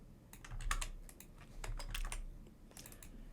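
Rapid keystrokes on a computer keyboard as a file name is typed, a close, steady run of light clicks in irregular bursts with no voices.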